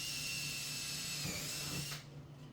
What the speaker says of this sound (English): I'm drilling holes that match the size